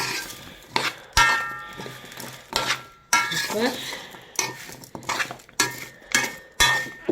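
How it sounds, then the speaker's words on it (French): A utensil scrapes and clinks against a pot as pasta and vegetables are stirred, in uneven repeated strokes, close up and fairly clear, with no talking. "Donc, je remue. Je remue."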